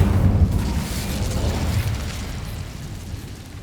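An Incendio fire spell is cast in the video game Hogwarts Legacy, opening with a loud, booming whoosh of flame that rolls on and slowly fades over several seconds, with no voices.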